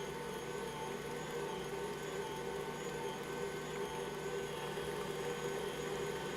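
An electric mixer whirs at a steady, fairly quiet pitch as it beats eggs into batter, a continuous motor hum with no voices over it.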